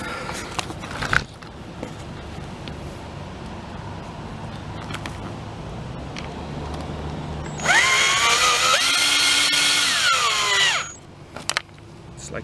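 Screws driven with a power drill into the rubber roof of a Keystone Raptor trailer: low handling noise, then one loud, close, steady whirring run of the drill lasting about three seconds before it cuts off.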